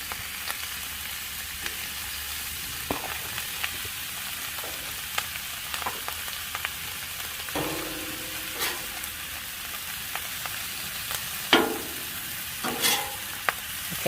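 Leftover cooked pork loin warms on a Blackstone griddle, giving a soft, steady sizzle broken by scattered clicks and scrapes of a spatula, with one sharper knock toward the end.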